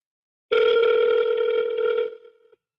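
A steady telephone dial tone sounds alone for about two seconds while a call is redialed during a live phone negotiation session, then cuts off abruptly.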